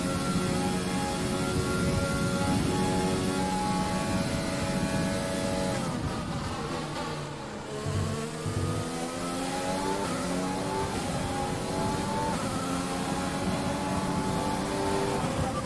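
F1 race car engine in the F1 2020 video game at the Canadian Grand Prix, with an engine that is failing. It screams continuously at high revs, dips briefly as it shifts down, then climbs again through rising gear sweeps.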